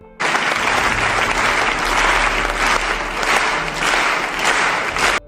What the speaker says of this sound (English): This video shows the audience clapping for a performance.